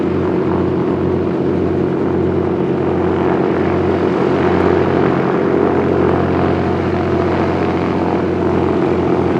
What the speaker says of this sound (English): Well, he's revving it up. Should be lifting off in just a second.